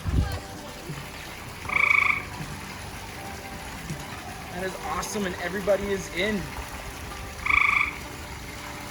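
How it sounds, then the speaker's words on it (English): A small frog by a 3200-gallon backyard pond gives two loud, buzzing croaks a few seconds apart, with a person talking between them and faint trickling water behind. "That is the loudest little frog."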